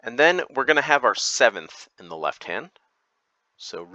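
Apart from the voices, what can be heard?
None of the usual background noises is heard.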